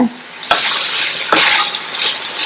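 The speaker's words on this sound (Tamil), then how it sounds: "இந்த மசாலாவோட சேர்ந்து முள்ளங்கி 2-3 நிமிஷம் ஃப்ரை ஆயிட்டு இருக்கட்டும்." Sliced radish frying with masala in a pan, a loud close sizzle broken by scraping stirs at regular intervals.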